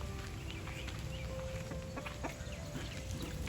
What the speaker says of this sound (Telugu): కొంచెం డిఫరెంట్గా ఉంది కోడి